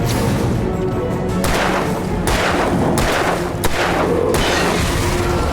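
Gunfire and heavy booms from the PC game Alan Wake Remastered, a run of loud shots and blasts over a dense, rumbling background that stays high throughout.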